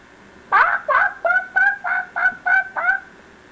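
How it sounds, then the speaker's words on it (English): A loud parrot gives a run of eight harsh, honking squawks in quick steady rhythm, close by, with no talking. "But that parrot was so loud."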